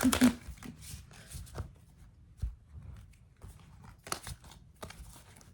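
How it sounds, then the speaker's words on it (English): Cards riffle and slap in quick bursts, several shuffles with brief pauses between, close by with no speech. "Got a few decks to shuffle."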